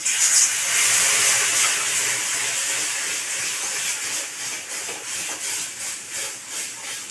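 Water poured into a hot cooking pan for a ripe mango dish, giving a loud, steady hiss of steam that slowly fades into a pulsing sizzle, close by with no talk.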